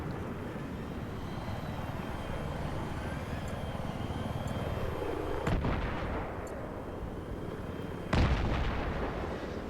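Battlefield 3 multiplayer combat on Kharg Island, with a constant roaring engine drone underneath and two sharp loud blasts from rocket or gunfire explosions several seconds apart, no voices.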